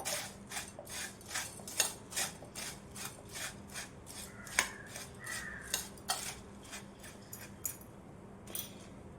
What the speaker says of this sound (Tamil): இதெல்லாம் சேர்த்து நல்லா கிண்டி விட்டுடலாம்